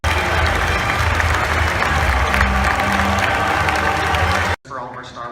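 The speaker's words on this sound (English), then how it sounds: "give a round of applause to Walt Disney Imagineering and to Lucasfilm members" A large convention audience applauds and cheers loudly and continuously for the Walt Disney Imagineering and Lucasfilm panel at Star Wars Celebration Orlando, with voices mixed in, before the clapping cuts off and a single voice briefly speaks.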